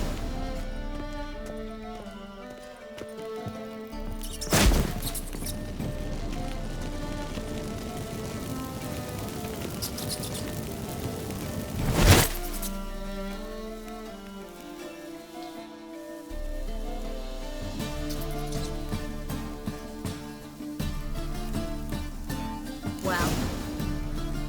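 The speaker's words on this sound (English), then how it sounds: "Get ready for some magic fireworks." Magic fireworks set off to drive out rats in The Witcher 3, a few sharp bursts and whooshing cracks under a continuous crackling hiss and layered game music, moderately loud.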